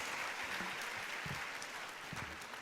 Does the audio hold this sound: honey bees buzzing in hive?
no